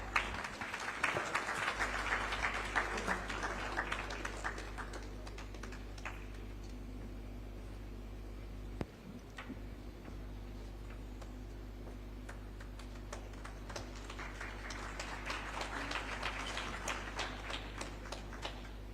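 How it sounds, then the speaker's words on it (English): A round of applause at an aerospace entrepreneurship event in Bengaluru, heard as fairly faint scattered clapping from an audience that swells at the start and again near the end, with a quieter stretch in the middle over a steady low hum. "Can we have a round of applause, please?"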